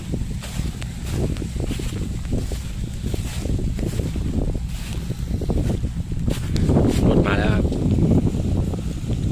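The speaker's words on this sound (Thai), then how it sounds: "ลมเย็นนะครับ ลมหนาวครับ" Wind gusts steadily across a corn field during harvest with a combine working nearby, a loud continuous roar and buffeting on the microphone, with someone speaking beneath it.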